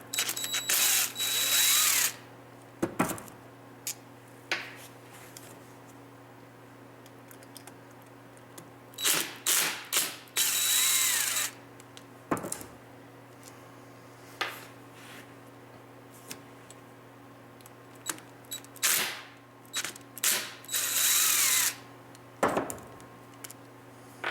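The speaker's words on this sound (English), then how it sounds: "I'm gonna go ahead and get this oil filter out of here" Work to remove the oil filter from a Kawasaki KLT 200C three-wheeler brings repeated short bursts of a power tool whirring, each a second or two long, separated by quiet pauses and occasional clicks and knocks, with no talk.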